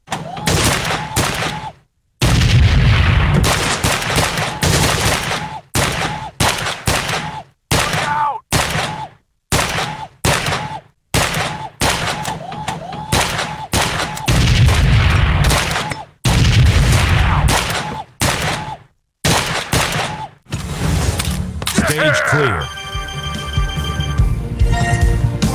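SMG gunfire in the VR shooting game Gun Club VR, fired in many rapid, loud, close bursts separated by short pauses, with ringing effects near the end.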